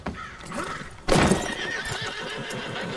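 A horse neighs loudly with a sudden whinny in Red Dead Redemption 2, followed by steady hoof clip-clops in the background.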